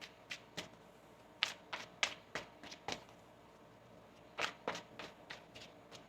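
A tarot card deck being shuffled, with a series of crisp riffling snaps and taps in uneven bursts, fairly close but quiet against a soft background.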